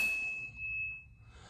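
A single bright ding from a bicycle bell on a Magicycle fat-tire e-bike, struck once and ringing out as a clear sustained tone that slowly fades, heard close and alone.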